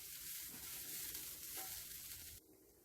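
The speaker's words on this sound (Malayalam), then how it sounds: "നല്ലതുപോലെ ഇളക്കി വറുത്തെടുക്കാനായിട്ട്" Grated coconut roasting in a pan for pineapple pachadi, a close, steady crackling sizzle with soft stirring scrapes, which drops to a quieter hiss near the end.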